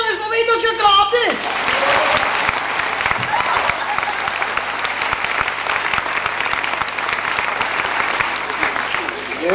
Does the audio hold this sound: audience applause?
yes